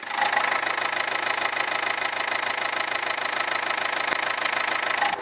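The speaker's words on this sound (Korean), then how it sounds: "엔진 소리도 정숙한 디젤 소리만 나고 있었네요" A Renault Samsung SM5 Nova diesel car engine idles close by, a loud, even clattering chug with a rapid knocking rhythm that stays steady throughout.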